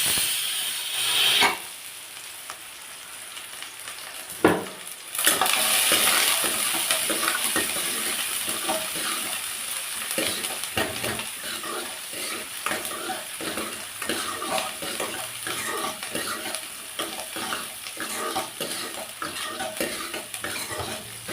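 Onions fry and are stirred in a pan for a moong dal kuzhambu, making a steady soft sizzle with repeated scraping strokes and a couple of sharper utensil knocks near the start.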